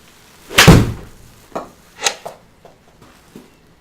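A golf club strikes a ball into an indoor simulator screen with a Skytrak launch monitor: one sharp, loud thwack, then a few softer knocks and thuds as the ball settles, with no talking.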